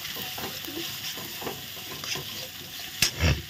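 Spiced prawn masala for prawn malai curry sizzling in a pan while being stirred, with scraping strokes at intervals and a louder clunk of a utensil near the end.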